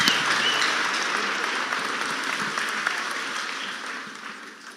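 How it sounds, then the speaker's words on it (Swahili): A crowd applauds steadily for a 3 million donation presented by President Ruto's son George Ruto, with dense clapping that starts loud and slowly fades over several seconds. "Hiyo ni makofi yetu kweli ya 3 million."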